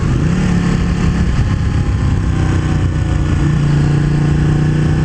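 Motorcycle with an aftermarket, California-legal exhaust running steadily close by: a loud, rough, continuous engine drone with a low throbbing note and slight shifts in pitch, heard alone.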